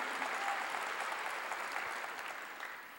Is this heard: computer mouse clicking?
no